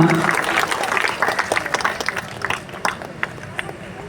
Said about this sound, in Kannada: ಒಮ್ಮೆ ಜೋರಾದ ಚಪ್ಪಾಳೆ ನಿಮ್ಮೆಲ್ಲರಿಂದ ಬರಬೇಕು